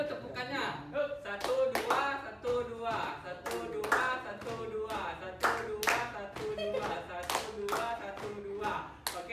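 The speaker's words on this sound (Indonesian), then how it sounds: "Ayo, semuanya kita coba dulu tepukannya" Hands clap together in a steady repeated rhythm during a group practice in a classroom, sharp claps recurring regularly across the stretch with a few voices mixed in.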